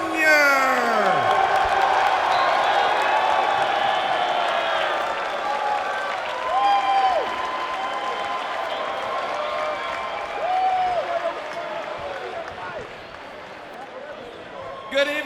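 Large crowd cheering, whooping and applauding at a live wrestling show at Fort Leonard Wood, Missouri, loud and sustained throughout, with scattered shouts and a voice speaking over the noise.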